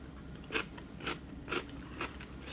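Close-up bites into sweet, crunchy food at a dinner in Korea, four or five sharp crisp crunches spaced about half a second apart over a low room hum, with no talking.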